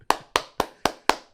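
Six sharp hand claps in a steady, evenly spaced rhythm, loud and close, with no talking over them.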